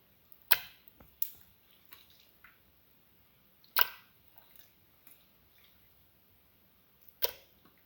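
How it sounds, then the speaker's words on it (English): Pieces of raw beef liver dropped one by one into a pressure cooker pan, giving a few sharp, wet plopping and tapping hits spaced apart, with quiet gaps between them. "Put in the pieces of the beef liver into the pressure cooker pan."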